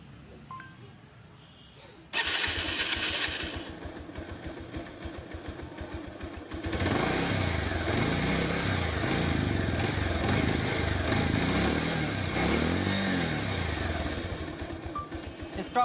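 A motorcycle engine cranks and then starts, settling into a loud, close, rumbling idle with a rhythmic throb that carries on steadily for most of the stretch.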